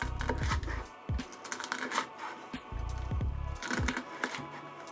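A knife crunches through crispy twice-fried chicken (sanzoku-yaki), producing sharp crackling bursts in a few quick passes, close and fairly loud with no talking.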